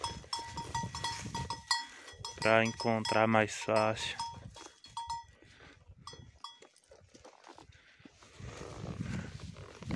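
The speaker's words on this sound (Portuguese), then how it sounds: "Éguinha aqui com sino, ó." A bell clanks irregularly at mid distance from a walking mare, with someone speaking briefly and outdoor rustle around it.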